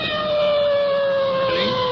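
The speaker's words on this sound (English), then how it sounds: "Now the sergeant's really blasting that siren coming into that intersection." Police car siren wails loud and close as the car approaches an intersection, a steady sustained tone that shifts pitch toward the end, with a faint trace of other noise beneath.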